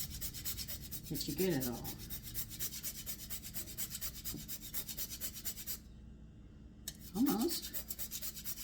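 Nutmeg rasped across a grater for a 1796-style rice pudding, a soft, repeated scraping in short strokes, faint and close, with a person talking now and then.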